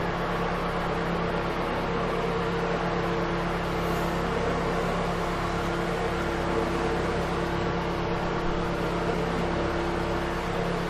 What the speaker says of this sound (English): All of the noise you can hear is the echo of the engine at the back of the boat